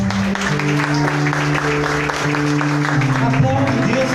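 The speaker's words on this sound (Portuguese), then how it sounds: "Aplauda o Senhor" A church congregation applauds God, with steady clapping blended beneath a loud preacher's voice and sustained musical tones that run throughout.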